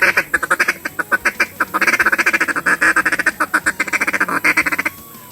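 A duck call blown to imitate mallards in a rapid feeding chuckle, a fast, dense run of clucking quacks rolling in bursts, loud and close with no talking.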